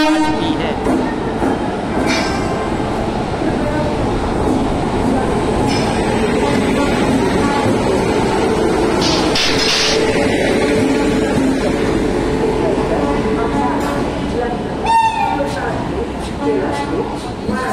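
The Jallianwala Bagh Express rumbles steadily alongside platform 8 at Varanasi Cantt railway station with clattering wheels, a brief horn-like tone and station chatter throughout.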